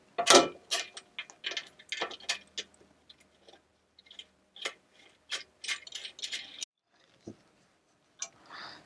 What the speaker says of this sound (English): we screw in the two nuts with the lock washers